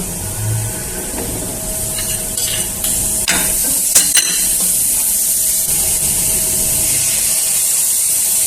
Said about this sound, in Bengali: মরিচ বাটাটা ফ্রাই করে নিলাম